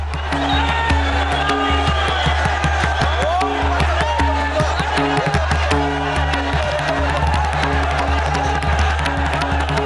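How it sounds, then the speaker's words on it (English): A large crowd roars and chants in rhythmic waves at Ayodhya, a dense mass of voices rising and falling with a constant low rumble underneath. "Voices were barely heard over the chants of the crowd."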